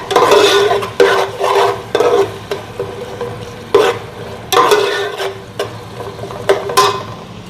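Dal chana pulao is stirred in a pan, spoon scraping and clinking against the metal in uneven strokes over a steady sizzle, close and loud, with no talking.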